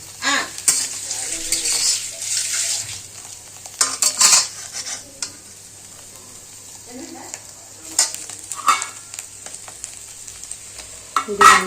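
Paneer butter masala ingredients cooking in oil in a pan until their moisture cooks off, a steady soft sizzle broken by sharp scrapes and stirring clatter of a spoon against the pan.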